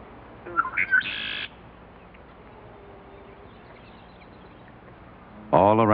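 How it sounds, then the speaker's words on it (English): Male red-winged blackbirds calling in a spring bog, a brief burst of bright chirps and a buzzy trill near the start, then quiet ambience before another loud call cluster at the end; a narrating voice may run faintly underneath. "a chorus of male red-winged blackbirds flash their gold-fringed epaulets, attracting females and challenging one another"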